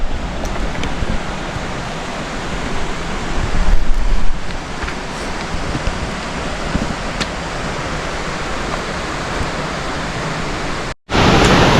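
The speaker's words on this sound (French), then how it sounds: "On est arrivé du coup à la cascade Bras Rouge." Bras Rouge waterfall near Cilaos on Réunion roars as a dense, constant rush of falling water, loud and close, with a brief dropout near the end.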